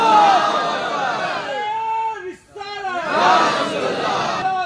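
A large crowd at a religious gathering, the Khwaja Garib Nawaz conference, roars the Naara-e-Takbir slogan in loud unison, in two sustained bursts of shouting separated by a brief dip.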